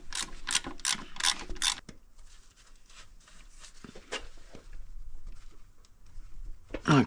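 Ratchet wrench tightening alternator bolts on a Honda CRX clicks in a quick run of loud, close pawl ratchets, followed by quieter tool handling and faint clicks, with a voice speaking softly under it.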